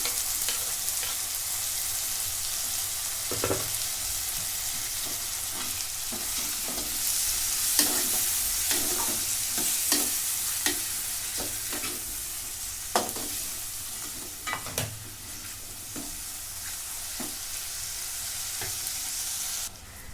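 Finely chopped tomato and green chili sizzle steadily in a pan for chicken biryani, with repeated scraping stirs and clatters over a continuous hiss, close and without talk.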